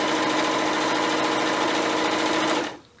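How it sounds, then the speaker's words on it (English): A sewing machine stitches stretched elastic onto fabric in a steady, rapid mechanical whir close by, running about two and a half seconds before stopping abruptly. "continue sewing it down while that elastic is stretched"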